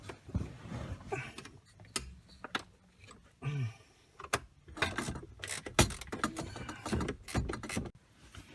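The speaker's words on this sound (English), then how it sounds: "I'm just tightening up that bolt." Bolt being tightened by hand under the dash of a 2005 Pontiac G6 GT near the electric power steering motor: close, irregular metallic clicks, taps and ratcheting rattles in quick bursts, with light handling noise between them.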